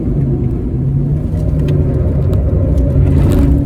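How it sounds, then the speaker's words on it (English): Proton track car engine driving around a race circuit, a steady loud in-car rumble and whir with mild revving throughout, no voices. "Don't think I've ever been in a Proton track car."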